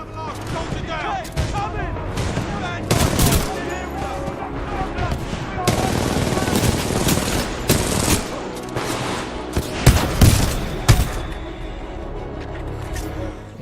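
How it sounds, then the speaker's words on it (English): Supporting gunfire during a Titanfall 2 battle: bursts of automatic fire and heavy impacts crackle repeatedly amid dense combat noise, with a spoken voice heard over parts of it. "Commencing supporting fire."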